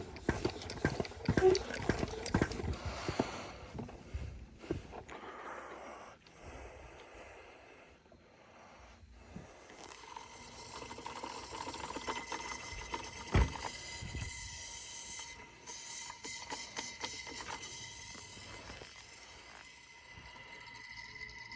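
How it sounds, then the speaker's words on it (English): A hand-operated oil evacuator pump draws old oil out of a new lawnmower's small engine, making a quiet, uneven run of gurgling, sucking and mechanical clicking and ratcheting noises. "going to get this oil sucked out of here with my oil evacuator"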